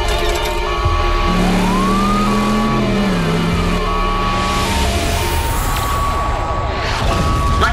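Cartoon police pursuit at high speed, with wailing sirens sweeping up and down over a loud revving car engine, continuous and close throughout, with a voice speaking briefly in the mix.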